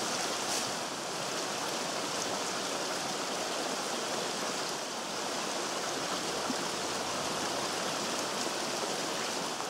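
Creek water rushes steadily as a canvas bucket is filled outdoors at a watering hole, a loud, continuous broadband splashing flow with no pauses and no voices.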